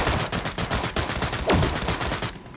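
Rapid automatic gunfire in the shooter video game Sausage Man, a fast steady stream of sharp cracks throughout with a whooshing sweep in the middle, loud and close.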